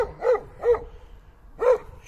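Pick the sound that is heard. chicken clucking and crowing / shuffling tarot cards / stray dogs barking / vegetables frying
stray dogs barking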